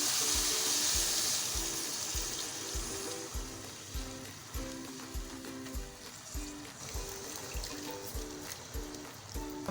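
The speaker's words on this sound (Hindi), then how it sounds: "अब हम इसमें ऐड करेंगे पानी।" Water is poured into moong dal that has been frying with spices in a pan, giving a steady close sizzle and hiss with a trickling stream and soft regular knocks underneath, with no talking.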